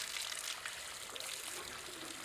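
Hot water running from the tap of a Stiebel Eltron instantaneous water heater, a quiet steady hiss of flowing water splashing into a basin, continuous and unbroken.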